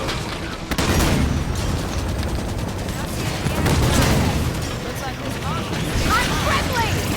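Rapid bursts of gunfire from a Halo 5: Guardians firefight, loud and sustained with booming shots, mixed under frequent game voice chatter throughout.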